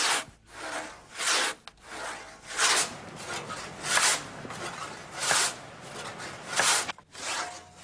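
Long sawyers working a log by hand with a large pit saw, giving a steady rhythmic rasp of back-and-forth strokes, roughly one per second, close and continuous without voices.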